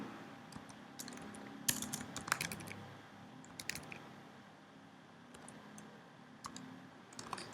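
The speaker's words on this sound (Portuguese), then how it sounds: "A gente vai digitar essas instruções aí." Soft, rapid keystrokes on a computer keyboard as commands are typed in, with faint irregular clicks scattered through a quiet room.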